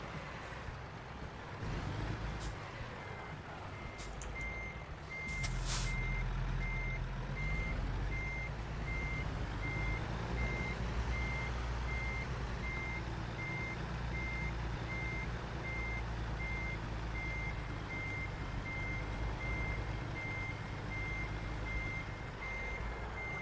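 Steady, evenly spaced truck reversing beeps from a big rig backing up in American Truck Simulator, running throughout over a constant low engine rumble.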